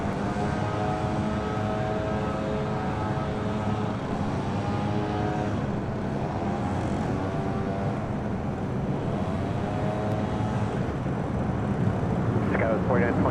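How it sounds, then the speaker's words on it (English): A Delta Airbus A319 taking off from runway 6 right at LAX at night, a loud sustained jet engine roar with shifting whining tones, under radio chatter. "Delta A319 now departing, taking off at 6 right."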